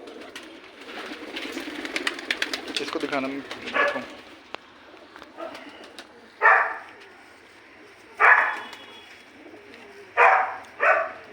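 Pigeons cooing in a loft in Old City, Jammu, several short soft bursts at spaced intervals in the latter half, following chatter and people talking nearby.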